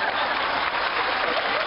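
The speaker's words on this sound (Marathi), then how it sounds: "जोरदार टाळ्या झाल्या पाहिजे महेश मांजरेकर सरांसाठी." A studio audience bursts into loud, dense applause for Mahesh Manjrekar, a full wash of clapping sustained evenly for under two seconds.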